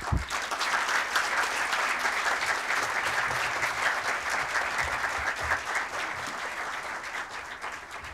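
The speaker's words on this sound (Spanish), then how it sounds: "Vamos en este momento a recibirlo aquí. Un aplauso." Steady audience applause at a book launch event on economics, sustained and fairly loud throughout, with no speech over it.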